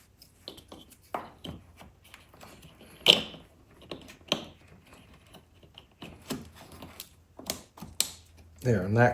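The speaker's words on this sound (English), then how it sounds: "There, and that clicks into place." A plastic connector on an LED lighting distribution hub snaps into place with a few sharp, close clicks among handling rattles, while someone talks intermittently.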